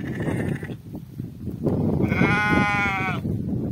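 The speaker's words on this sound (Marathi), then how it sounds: "आलेलो आहे आज रानामध्ये मेंढ्या चारायला" Sheep out grazing on a small grassy hillside bleat nearby, a short call early and a longer wavering bleat later, over soft rustling ambience without speech.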